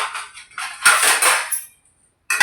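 A lid set onto a bowl of whipped urad dal batter for medu vada in a home kitchen, a few close clinking and scraping contacts of metal, then a brief clatter after a short silence.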